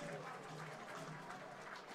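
Crowd applauding at a USPBL minor-league baseball game, the Eastside Diamond Hoppers against the Utica Unicorns, after a fan's catch down the left field line; a steady, distant smattering of applause under a commentator's voice.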